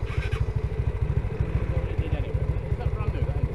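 A Honda C90 motorcycle engine while riding, with a steady, close, low-pitched putter and rapid even firing pulses that hold a constant pace.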